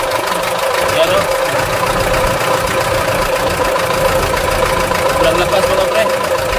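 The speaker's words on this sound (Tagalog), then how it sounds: "Palyado mga pre, may tama na yung gasket niya mga pre, sa cylinder head niya." An Isuzu 4BA1 diesel engine with a damaged cylinder head gasket runs loud and close, its steady rough idle broken by uneven, misfiring knocks while someone talks over it.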